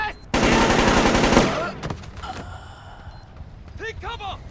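Heavy automatic gunfire from the 2005 stealth game Splinter Cell Chaos Theory, a loud dense burst lasting about a second, then scattered shots and clanks with shouting voices in the background.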